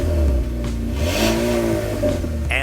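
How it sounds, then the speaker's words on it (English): A 2017 Buick Envision Premium AWD with a 2-liter turbo four-cylinder and 6-speed automatic accelerates, its smooth, soft engine note rising steadily in pitch, heard alone and close with a brief whoosh at the end. "and a soft engine note."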